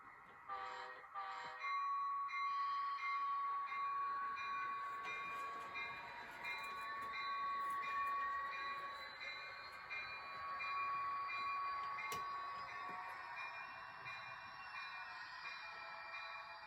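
A Rapido Amtrak F40PH model locomotive running in reverse on a layout, a continuous electric motor hum with a faint rising whine, steady and close, with a brief click partway through.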